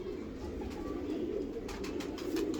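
Pigeons in a loft coo softly in low, throaty murmurs over a quiet background, with a few light rustles toward the end.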